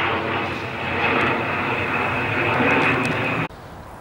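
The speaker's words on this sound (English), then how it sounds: "Another plane. It's a propeller. Twin double prop." A twin-engine propeller airplane passes overhead, a steady broad droning roar that holds for about three and a half seconds before cutting down sharply to a quieter rumble.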